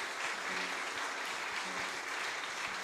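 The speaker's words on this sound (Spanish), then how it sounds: "Vamos a darle un aplauso grande a Bello por su amor a esta patria" Steady applause fills a church during a funeral Mass, dense continuous clapping from a congregation, moderately distant and reverberant, with no voices over it.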